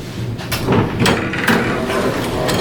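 Otis traction elevator doors at College Park Mall in Toronto, malfunctioning, slide shut with a busy run of rattling, scraping mechanical thuds and bumps, fairly loud and close throughout.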